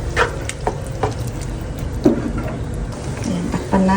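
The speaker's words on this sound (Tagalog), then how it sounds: "Haluin lang natin." A spoon stirs ginisang mongo, a mung bean stew with ampalaya, in a pan, giving a few scraping strokes and clinks over a soft simmering sizzle, close and with no talking.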